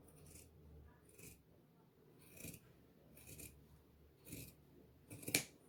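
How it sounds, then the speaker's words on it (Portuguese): Scissors cut fabric lining for a crochet bag in a series of about six crisp, close snips spaced roughly a second apart, the last one sharper and louder, with faint rustling of cloth between cuts. "seguindo aqui, a gente vai cortar"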